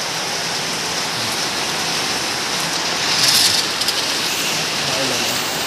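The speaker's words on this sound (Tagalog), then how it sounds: "Lakas ng ulan no." Heavy rain pours steadily outside a Starbucks, a dense continuous hiss filling the scene with a brief louder swell midway, and a voice talks faintly beneath it.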